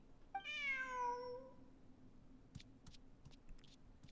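A cat character in a video game gives a single clear meow, followed by a few faint soft clicks in an otherwise quiet scene.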